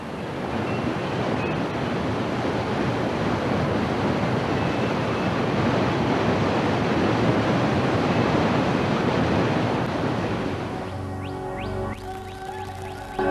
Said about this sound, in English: we reach waters that run too fast and furiously for even the most powerful canoes